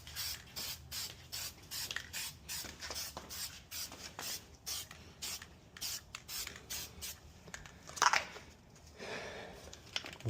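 Plasti Dip rubber coating hisses from a spray can onto the spoiler of a Toyota Tundra pickup, with a rapid series of short, close spray bursts and brief pauses between them.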